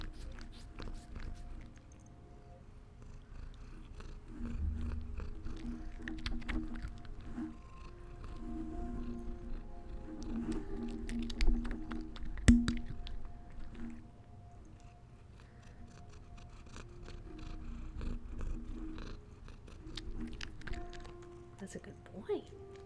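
Domestic cat purring up close, a soft low rumble that rises and falls in waves, with scattered rustling and small handling noises and occasional quiet human murmurs.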